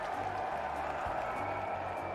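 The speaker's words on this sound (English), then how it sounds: "You hear the crowd there." Stadium crowd in the Cricket Club VR game, a soft steady murmur and faint applause-like wash that continues evenly, fairly quiet in the background.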